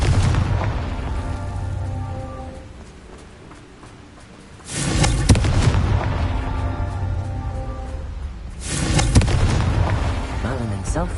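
A Confringo fire spell in Hogwarts Legacy sets off loud booming explosions, a heavy blast at about five seconds and another near nine, each trailing into rumbling debris over game music and faint voices.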